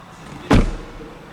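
A Nissan Ariya electric car door opens with a single short, solid thunk over quiet surroundings.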